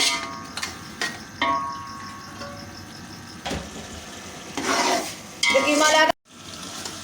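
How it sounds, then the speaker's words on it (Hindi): Minced beef keema frying in ghee for a beef keema pulao, with soft sizzling and occasional stirring scrapes and clicks, the frying growing louder near the end before a brief break. "अब हम इसको जो है वो अच्छे से फ्राई करेंगे"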